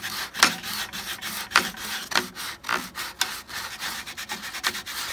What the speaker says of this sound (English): We are sanding the parts to our boat.